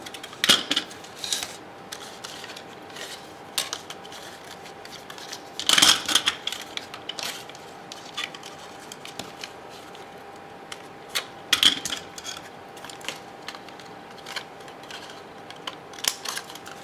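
Scissors snip through cardboard while making a stacked pop-up frame craft, a series of sharp close crisp cuts scattered irregularly with quiet pauses between them.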